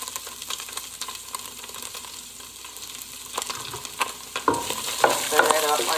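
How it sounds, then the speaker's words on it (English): Pork steak being stirred with Sazon seasoning in a hot pan for arroz con gandules, a steady sizzle and frying hiss with scraping stir strokes that grow louder and busier toward the end. "Stir that up like this. We'll get it mixed up nice."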